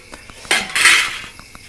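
Plates and cutlery clink together at a meal of dal and roti, a short bright jangle of metal utensils on dishware, close and fairly loud, with faint taps around it.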